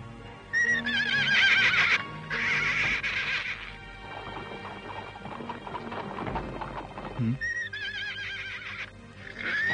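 A tonga horse whinnies loudly twice, near and clear, with clip-clop hooves of the horse-drawn cart beating steadily beneath and a rumbling cart ambience between the neighs.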